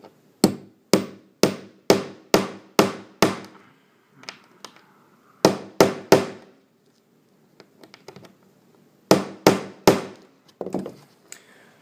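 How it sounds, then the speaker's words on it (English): Sharp, ringing hammer blows driving a nail into model railroad track, several quick bursts of evenly spaced hits separated by short pauses, close and loud. "using the hammer and this, we'll drive it down straight"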